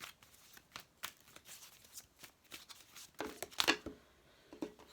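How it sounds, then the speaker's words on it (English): Tarot cards being shuffled by hand, a run of quick papery riffles and soft slaps coming in uneven bursts close to the listener, with no talking. "Don't need another shuffle."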